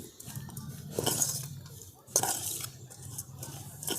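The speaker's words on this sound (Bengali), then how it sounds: "এবারে আমি সমস্ত কিছু একসাথে ভালো করে মিশিয়ে নিচ্ছি" Spiced ingredients with chili flakes being mixed together in a bowl, soft scraping and stirring with a couple of sharp clinks of a spoon against the dish, fairly quiet and close.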